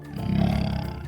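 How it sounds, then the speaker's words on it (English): A jaguar roars loud and close in one sustained, rumbling growl that swells and fades over about a second, with no talk. "Jaguar."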